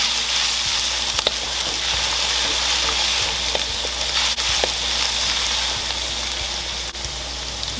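Pepper and scallion stir-fried in a hot pan for a spicy soy sauce crawfish dish, giving a steady, loud, continuous sizzle with faint scraping of stirring throughout and no talking.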